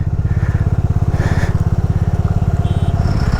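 A motorcycle engine at Baralacha Pass, high in snowy Ladakh traffic, runs loud and close with a fast, even thumping pulse and slight rises in revs.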